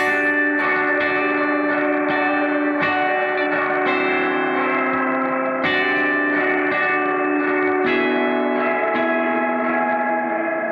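Gamechanger Audio Light Pedal reverb on a slow guitar part: sustained chords wash into a dense, shimmering, bell-like reverb tail, with new notes swelling in every couple of seconds, loud and continuous with no talking.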